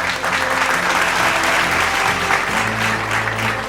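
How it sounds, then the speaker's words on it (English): Loud, dense audience applause fills the hall at a journal inauguration ceremony, a continuous roar of many hands clapping close and steady from start to finish, with a low music tone entering near the end. "give a hearty, enthusiastic round of applause"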